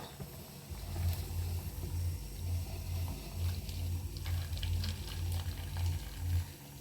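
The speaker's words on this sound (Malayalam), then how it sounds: "ഞാൻ അത് ഇവിടെ ഒരു ചെറിയൊരു ബൗളിലോട്ട് ശകലം ഊറ്റുകയാണ്" Water from boiling jackfruit seeds is poured off into a small bowl, giving a steady bubbling, sloshing liquid rush with a low pulsing rumble, continuous and close with no talking.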